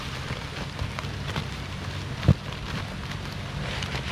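Steady rain on the water and nearby surfaces outdoors during a snakehead fishing trip in the wild, with some gusty wind noise and a single sharp knock partway through.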